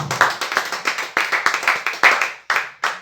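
Church congregation clapping loudly for God: a steady run of sharp, close hand claps in an even rhythm, about three seconds long.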